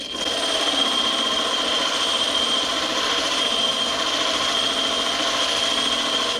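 A diamond lapping wheel with 180 grit grinds glass while the piece is rotated. A steady, even whir with a gritty rubbing texture continues without a break, close and fairly loud, and there is no talking.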